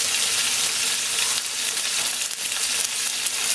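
A dish of sapsap fish and string beans being stirred and fried in a pan, a loud continuous sizzle with faint scraping from the stirring.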